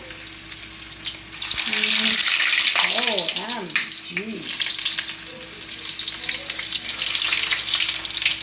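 Shrimp tempura in hot oil sizzles loudly and without a break, with the bubbling and crackle rising sharply as the pieces go in. Someone speaks briefly and exclaims over the frying.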